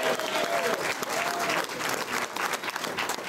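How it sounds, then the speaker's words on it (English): An audience applauds hotel and union workers at a public event, a continuous wash of many hands clapping at moderate distance, with a faint tonal whistle or voice drifting through early on. "Give them a round of applause for their hard work."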